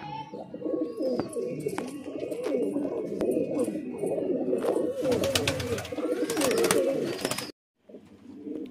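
Pigeons at a bird lot coo continuously in a close, dense chorus, the sound breaking off briefly near the end.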